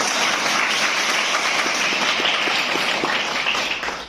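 Dense applause from a seated gathering holds at a steady, fairly loud level throughout, many hands clapping together with no one speaking over it.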